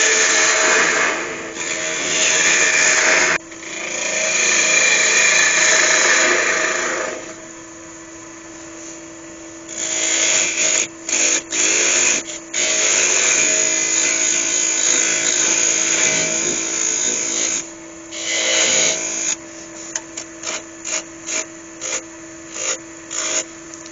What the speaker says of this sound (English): I do want a slight undercut in there, which I'll do with my skew chisel